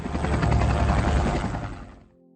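Helicopter in an action film, a dense rotor chop and turbine roar, loud and continuous for about two seconds before cutting off abruptly.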